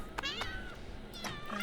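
Kitten in The Sims 2 meowing close and clear, two or three high, drawn-out mews in quick succession with a short pause between them, heard alone.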